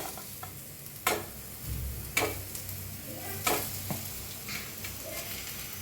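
Potatoes fry in a kadhai with a little oil, turmeric and seeds, a spoon scraping through them in a few sharp clatters over a soft, steady sizzle up close, with no one talking.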